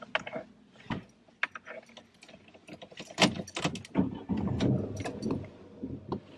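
Car keys jangle close by in irregular metallic clinks, followed by rustling handling noise and a low engine rumble as a car starts, with no talking.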